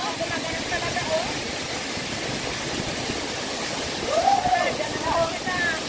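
Inom Banug Falls in Narra, Palawan pours as a constant broadband roar of rushing water close by, with people talking faintly beneath it.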